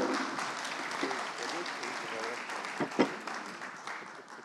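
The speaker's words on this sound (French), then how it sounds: "on peut les applaudir chaleureusement" At the CNSA-FNMS 2022 convention, a large audience gives warm, continuous applause that fills the hall with steady clapping. A few voices can be heard underneath the clapping.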